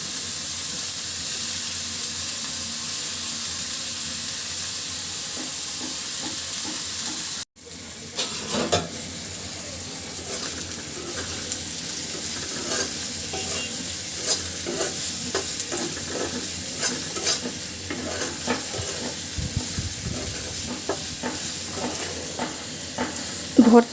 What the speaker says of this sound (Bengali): আর কিছু রসুন ভেজে দিব